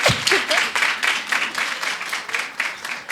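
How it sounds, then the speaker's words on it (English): An audience at a young women's dialogue event claps for a member of parliament, a close, moderately sized round of distinct, rhythmic hand claps that pulses steadily throughout. "You can clap for her."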